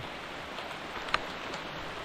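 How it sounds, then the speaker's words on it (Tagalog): Rain falls outdoors in a steady, even hiss that stays constant and moderately close, with one brief tap partway through and no voices. "Walang ubos iyan, ulan na yan."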